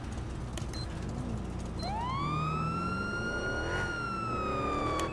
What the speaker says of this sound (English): I just turned my siren on and turned around.